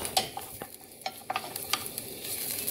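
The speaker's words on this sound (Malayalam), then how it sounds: "ഇനി ഇതിലേക്ക് വെളുത്തുള്ളി അരിഞ്ഞതിട്ട് കൊടുക്കുക." Chopped garlic sizzles and crackles in a tablespoon of hot sunflower oil while a utensil stirs it, giving faint, soft clicks and scrapes over a quiet, steady frying hiss.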